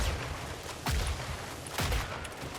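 Automated turret gunfire in the video game Killing Floor 3, heard as two loud bursts about a second apart over a steady background of game noise, with no talking.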